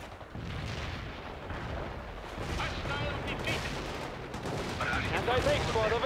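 Mortar fire in the strategy video game World in Conflict, heard as sustained rumbling bursts and distant booms layered with battlefield noise, with radio-style voices talking over it.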